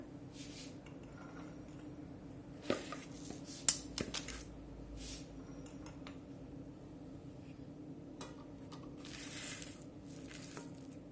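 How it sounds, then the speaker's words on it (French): Eggs cracked into a bowl for a hazelnut cake, with sharp taps and clinks around 2.5–4 seconds and a few later knocks over a steady kitchen hum. "je vais commencer à casser mes œufs"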